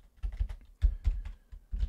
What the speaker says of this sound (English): I can type okay today.